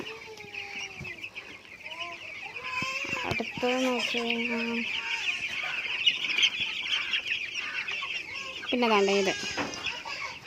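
A flock of 35-day-old broiler chickens clucks and chirps nearby in a steady chorus, with a louder burst of calls partway through, while a person talks over them.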